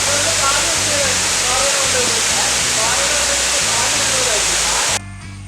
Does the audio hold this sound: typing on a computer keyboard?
no